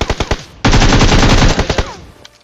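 Automatic gunfire in a shooter video game: a few quick spaced shots, then a loud dense burst of rapid rounds that stutters out into scattered final shots, close and sharp.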